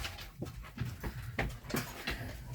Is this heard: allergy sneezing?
no